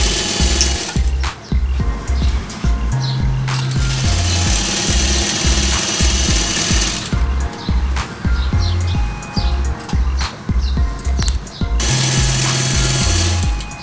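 Close, loud sewing machine stitching the side seam of a salwar in bursts of rapid rhythmic thumping, with short pauses and speed changes between runs, and a brief higher whine in places.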